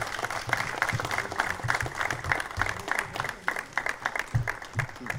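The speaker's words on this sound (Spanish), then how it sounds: "Un fuerte aplauso para ella." Steady applause from a seated audience at an intercultural event in Isla Cristina, honouring health workers, with a crisp, even clatter of many hands continuing throughout at moderate level.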